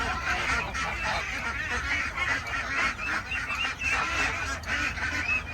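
A crowded pen of about 70 ducks quacks and honks noisily all at once, a dense, continuous chorus of overlapping calls close by with no pauses.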